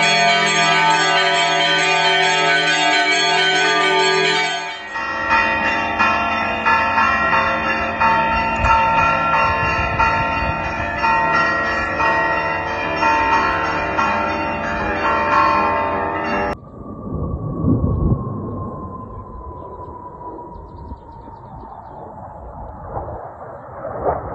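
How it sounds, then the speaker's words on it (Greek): Church bells ring festively for the 25 March Greek Independence Day celebration, a loud, dense, continuous peal that shifts pattern partway through, then stops, leaving a fading hum and faint ambient noise. "την ίδια ώρα σημάναν πανηγυρικά οι καμπάνες"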